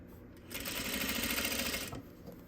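A Juki 8100e sewing machine runs a short, fast burst of straight stitching along piping with a zipper foot. The needle chatters rapidly for about a second and a half, close and fairly quiet, then stops.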